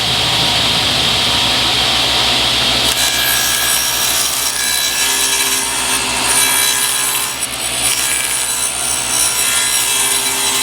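Steady back-and-forth sawing through a scrap piece of wood to cut it shorter during a double-wide wall-mounted pachinko cabinet build, continuous and close with a rasping texture and no talk.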